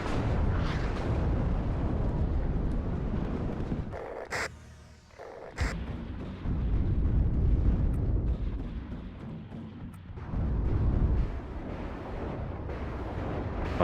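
Rumbling rocket artillery explosions in the WARNO wargame, a sustained heavy roar of blasts with a quieter lull in the middle before the booming resumes, dense and continuous.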